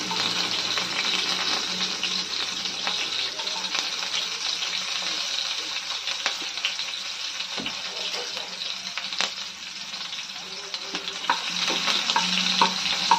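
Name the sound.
onions frying in oil with mustard seeds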